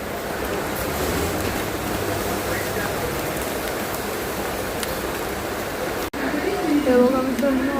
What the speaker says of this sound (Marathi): अरे भाई पाणी पडतं